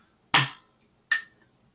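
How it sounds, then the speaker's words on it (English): Two sharp hand claps, evenly spaced about three-quarters of a second apart, sounding close and alone against silence as part of a simple musical rhythm. "If we see this clapped out, you'll probably hear it like this."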